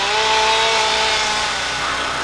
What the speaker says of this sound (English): There's chainsaws over there